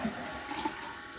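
Running water in the Dracula 3: The Path of the Dragon game, a brief steady watery rush, fairly faint and even throughout, heard alone.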